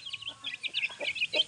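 A hen clucks close by in a rapid series of short, bright calls, about a dozen in quick succession, with no talking.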